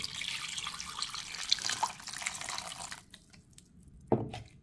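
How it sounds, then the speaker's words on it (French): Water pours into a cooking pot holding chili peppers and garlic cloves as a steady splashing stream for about three seconds, then stops, followed by a quieter pause and a brief clink, heard up close with no talking. "Je vais rajouter un peu d'eau."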